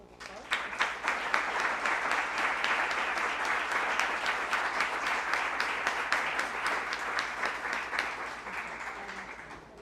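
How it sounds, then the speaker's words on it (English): The audience at the Sedas Nunes lecture on regional inequalities and political discontent gives a round of applause, steady dense clapping that holds for about ten seconds and fades slightly at the end. "Join me in a round of applause."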